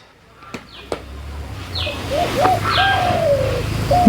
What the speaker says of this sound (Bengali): ঘুঘু ডাকতেছে